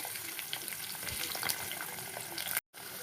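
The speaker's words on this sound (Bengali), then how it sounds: "এবার আমি ডাঁটাগুলো ভেজে নেব" Steady, close sizzling of vegetable stems frying in oil, a dense crackling hiss that runs unbroken until a brief cut near the end.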